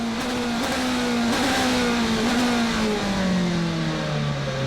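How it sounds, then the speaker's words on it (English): A Toyota endurance prototype race car at the Shanghai 4-hour circuit race sweeps past, its high engine note rising then sliding downward in pitch as it goes by, loud and continuous with a faint whistle over the roar. "The Toyota whistles by."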